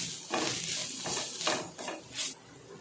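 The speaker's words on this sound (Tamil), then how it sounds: "இதுக்கு தேவையான அளவு உப்பு எல்லாம் சேர்ந்து கலந்து விடலாம்" A spoon stirs masala with green chili, chili powder and salt in a hot pan, giving repeated scraping strokes over a steady frying hiss.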